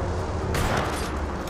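Dense, loud gunfire from a weapon in Apex Legends, a continuous rattling barrage with a sharper burst midway, heard up close with no talking.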